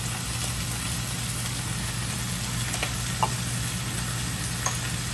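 Potatoes fry in a pan with a steady, even sizzle under a low hum, broken by a few faint clicks.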